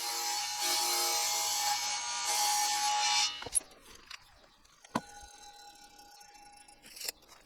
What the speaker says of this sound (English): I'm cutting each stringer to 28 3/4 inches.